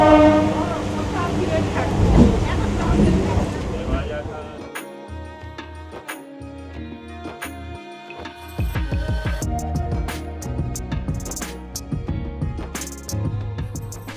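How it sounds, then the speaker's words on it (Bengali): Hasnabad local train pulling out of Sealdah, with a loud rolling rumble and repeated clickety-clack of wheels over rail joints. The train sound is steady throughout, with faint voices of passengers underneath. "2:54 ট্রেন ছাড়লো"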